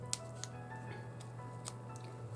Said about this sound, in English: I'm going to take my scissors and I am going to